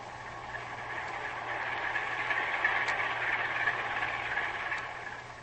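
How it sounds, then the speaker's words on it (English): A ship's heavy engines and twin propellers, heard from a submarine in an old-time radio drama, drone as a low, steady, muffled rumble that swells slightly and then eases over several seconds. "Heavy engines and 2 propellers."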